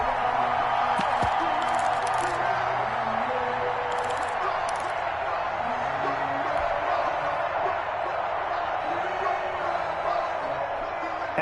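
A stadium crowd in a football video game featuring the Bills roars steadily beneath play-by-play commentary.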